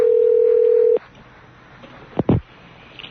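A telephone dial tone hums steadily and loudly for about a second during a prank call to a radio show office, then cuts off and leaves a couple of short clicks and handling thumps.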